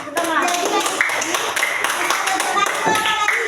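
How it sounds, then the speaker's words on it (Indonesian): A classroom gives lively applause for a student, with many hands clapping in a quick, dense patter that stays close and loud throughout, mixed with children's voices. "beri aplaus untuk Alvaro yang sudah menyimpulkan"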